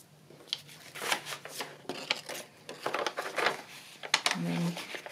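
Paper being folded and creased for a Christmas journal: soft crinkling, brushing and tapping bursts at close range, irregular and quiet, with a person speaking intermittently alongside.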